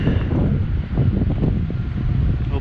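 Strong wind buffets the microphone outdoors beside a grain truck being tarped, in a continuous, low, rumbling roar.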